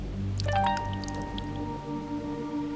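Water drips from above inside a home, a short cluster of soft wet drops early on, then quieter, over a sustained tonal hum.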